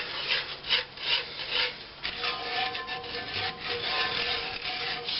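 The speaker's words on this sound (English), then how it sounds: "Keep stirring it." A spoon scraping steadily around a pan of chocolate gravy on the stove, a continuous close rubbing rasp that swells and fades with each stroke.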